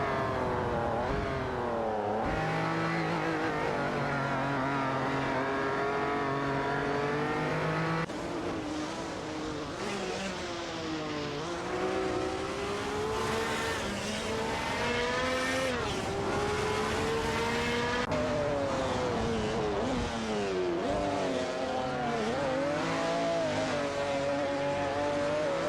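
Mercedes-Benz ELK GT race cars in a racing game, engines howling at high revs as they run close together, with pitch rising and falling through gear changes and corners, loud and continuous throughout.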